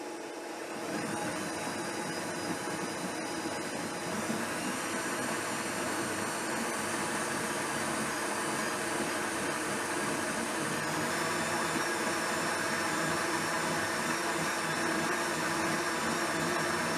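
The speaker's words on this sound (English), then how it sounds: "So now let's go over and throw this in the blender." A Vitamix blender purees cooked carrot ginger soup, its loud, steady motor whine and whirring churn running continuously for the whole stretch with no talking.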